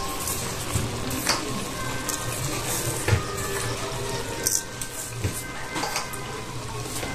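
Sweetened moong dal filling for kachuri, stirred often in a pan as it cooks down and thickens, gives wet scraping and gentle bubbling sizzles with intermittent spoon knocks against the pan and no talking.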